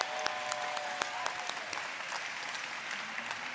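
Ribbon-cutting ceremony crowd at a Stark County campus applauding the first food load sent out, a moderate, steady round of clapping with a few sharper nearby claps, fairly soft and even.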